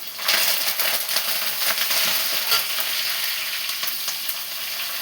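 Broad beans sizzle in a hot oil tempering in a pan, giving a steady, close, crackling fry with light stirring scrapes and no voices.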